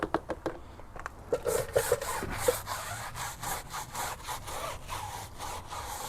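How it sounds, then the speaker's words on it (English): A brush scrubs wheel cleaner into a car tyre with quiet, rhythmic back-and-forth strokes that are close and fairly soft, and no one speaks. "just going to go back over the tyre a little bit and scrub it in"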